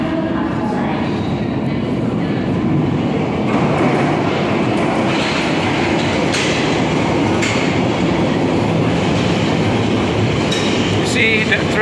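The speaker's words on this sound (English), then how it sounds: "Train coming out from the tunnel." Loud, continuous roar of a London Underground train rushing past close by as it leaves the tunnel at Earl's Court, with rattling wheels and metallic clatter throughout.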